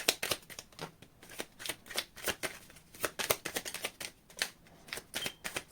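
Cards are shuffled in quick riffling bursts, each a crisp flutter, repeating several times close up with no voices.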